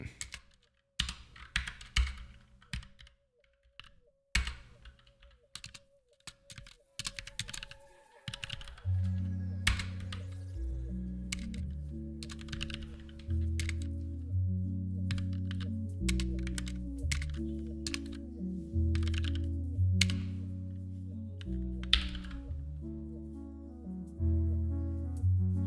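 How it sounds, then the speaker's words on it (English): Fingers type on a computer keyboard, close and clacky, with irregular bursts of keystrokes that carry on over a quiet backing music track later on. "It's being weird about selecting, so I'll type it like a peasant."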